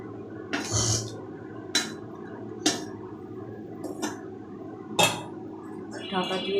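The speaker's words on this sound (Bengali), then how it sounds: "ঢাকা দিয়ে রেখে দিই" A lid is set on a pan of mushroom curry with a series of sharp metallic clanks and clinks about a second apart, close by over a low background hiss.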